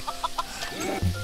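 Chicken clucking in Minecraft, a few short repeated clucks early on followed by a lower blocky game sound, close and moderately loud.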